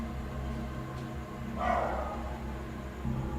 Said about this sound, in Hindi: मुसलसल कुत्तों का भौंकना लगातार।